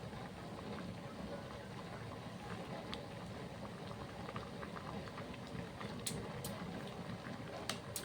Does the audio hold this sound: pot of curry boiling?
yes